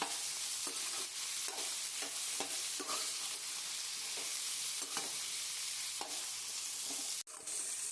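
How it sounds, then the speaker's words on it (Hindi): Onions and capsicum sauté in a pan for chicken jalfrezi, giving a steady, close sizzle with regular scraping stirs of a spoon throughout and a brief clatter near the end. "प्याज और शिमला मिर्च को जो है वो हमने सौते करना है।"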